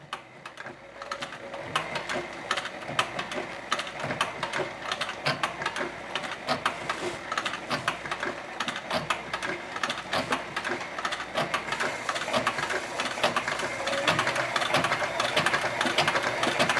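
A low-geared leather sewing machine runs slowly, a close, rapid mechanical clatter of needle strokes that grows slightly louder and continues without pause.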